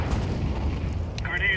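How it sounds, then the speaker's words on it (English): In a video game, a flashbang grenade detonates with a deep, rumbling low boom that lingers throughout, and a brief bright burst flares near the end. "Deploying flashbang."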